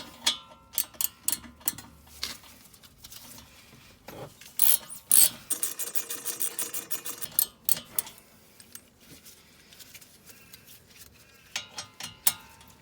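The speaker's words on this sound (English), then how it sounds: "we are going to use a T45 socket bit to remove those pins" A T45 socket bit turns out the front brake caliper guide pins on an Audi A3 during a pad replacement, giving close, sharp clicking and rasping bursts in uneven rhythm with brief pauses between them.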